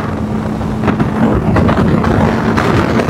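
A 300cc naked sports motorcycle cruising in sixth gear at about 100 km/h gives a steady, close engine drone blended with heavy wind rush, loud and unbroken throughout.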